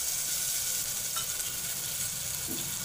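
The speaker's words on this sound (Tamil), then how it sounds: "பட்டர் ஹீட் ஆனதும் பட்டை கிராம்பெல்லாம் வதக்கிட்டு கொஞ்சமாக வெங்காயம் போட்டு வதக்கிக்கிறாங்க." Onions sautéing in hot butter with cinnamon and cloves, a steady soft sizzle and crackle throughout with faint stirring scrapes.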